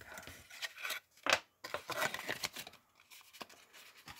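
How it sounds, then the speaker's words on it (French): Scissors snip diagonally through paper or fabric in a series of close, crisp cuts, several quick strokes with short pauses between, quiet and without talking. "je coupe en diagonale."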